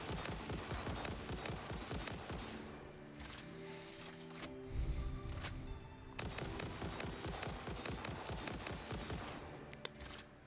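Rapid rifle gunfire in the video game Satisfactory, a dense run of sharp repeated shots with a brief lull near the middle, fairly quiet overall and without speech.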